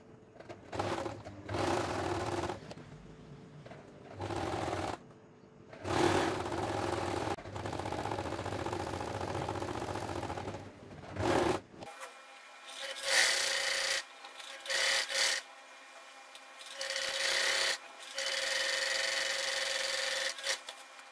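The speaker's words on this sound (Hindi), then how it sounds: "अब मैं इसके ऊपर सिलाई कर लूँगी" Niqab fabric runs through a sewing machine in short stop-start bursts of stitching, each run lasting a second or two, separated by quiet pauses, with a steadier stretch of whirring toward the end.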